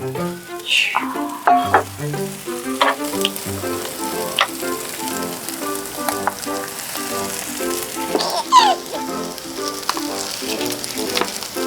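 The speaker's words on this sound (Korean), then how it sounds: "고기도 싹싹 썰어서 고기도 넣고요" Chopped Berkshire pork frying in a hot pan while it is stirred, a steady sizzle under clattering spatula knocks, with faint musical notes in the background.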